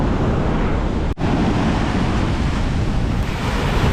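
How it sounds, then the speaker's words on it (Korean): Powerful ocean surf pounds against the cliffs and sandy shore at Nusa Penida, Bali, a loud continuous roar of crashing waves with heavy wind buffeting the microphone and no voices. "와, 파도가 장난 아니다."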